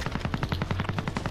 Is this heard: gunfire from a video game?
yes